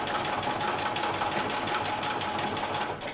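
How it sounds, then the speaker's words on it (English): A sewing machine zigzag-stitches over an elastic overlap for a mermaid-style dress, running continuously and close with a fast, even mechanical chatter throughout, and no one talks. "I'm just going to sew with a zigzag over that overlap."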